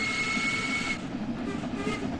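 A steam locomotive rolls past on the Midland Main Line UK route in Train Sim World 3, with a steady heavy rumble and a thin high whistle tone in the opening second. No one speaks.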